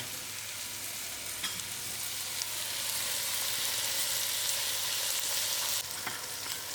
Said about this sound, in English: And I will allow this to cook till the tomatoes are cooked out.